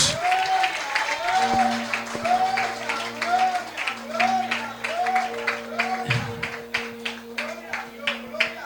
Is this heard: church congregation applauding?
yes